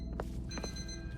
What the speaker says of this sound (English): So there's a beeping.